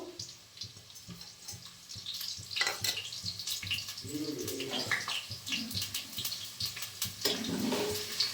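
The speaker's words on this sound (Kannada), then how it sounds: "ಬೆಳ್ಳುಳ್ಳಿ ಹಸಿಮೆಣಸಿನ್ಕಾಯಿ ಫ್ರೈ ಆಗಬೇಕು." Garlic and green chilies fry in oil in a home kitchen, making a faint, continuous sizzle scattered with small crackling pops and spatters that swell slightly at times.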